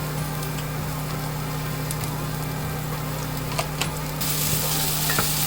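Potatoes with salt and turmeric get stirred in a hot pan for poha, a steady sizzle broken by occasional scraping clicks of a spoon against the pan, close and moderately loud, with no talking.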